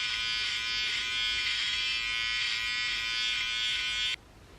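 Electric shaver used dry on armpit hair, a steady high buzzing drone held close for about four seconds, then switching off abruptly, with no talk.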